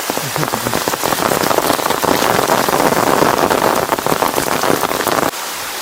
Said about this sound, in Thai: ตอนนี้ฝนตกแรงมากเลยครับ